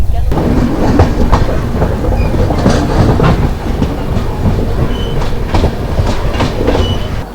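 Howrah–Indore Shipra Express running on Indian railway tracks, a loud steady rumble with rhythmic clickety-clack of wheels over rail joints, heard from on board throughout.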